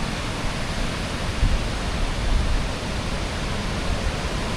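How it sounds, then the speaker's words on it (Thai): Khone Phapheng waterfall in Laos roars as a steady, dense, broadband rush of water, loud and unbroken throughout with slight surges, no voices. "น้ำตก"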